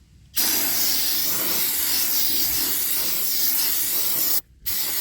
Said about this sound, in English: So you have to clean that off with some brake clean first.